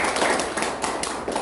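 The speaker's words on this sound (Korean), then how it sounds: "우리 박수 한번 해주십시오." A crowd at an outdoor election campaign rally in Daegu claps steadily in dense, continuous applause for the whole brief moment.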